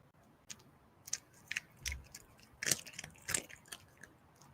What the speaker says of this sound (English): That was a good crunch too, that last one.